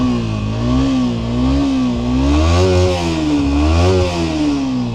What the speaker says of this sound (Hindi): आप लोगों को ना थोड़ा सा साउंड सुना देते हैं अपनी बाइक का और उस बाइक का, कि कैसा क्या साउंड कर रहा है बाइक अभी फिलहाल।